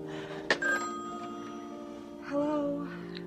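A telephone rings indoors in a 1980 television drama scene, sounding a sharp burst followed by a sustained tonal ring that pauses and returns as a second, fainter ring, with no voices over it.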